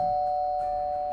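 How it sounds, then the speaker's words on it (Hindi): A doorbell rings once with a steady, sustained electronic tone that stays clear and alone throughout, with no speech over it. "और तभी उसकी डोरबेल बजती है"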